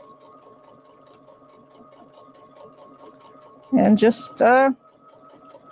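A sewing machine stitching fabric in a circle for a holiday ornament, its steady rapid mechanical whir running throughout, briefly interrupted by someone speaking.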